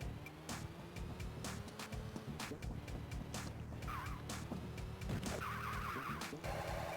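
Cars in a racing video game skid and spin out, with repeated sharp tire squeals over a steady engine drone and background game music, fairly quiet overall.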